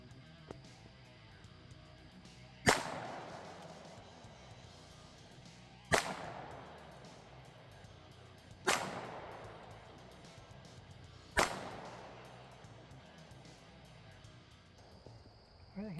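Four loud, sharp pistol shots from an aluminum-frame post-war Walther P38 at an outdoor shooting range, spaced roughly three seconds apart, each with a decaying echo over quiet background ambience.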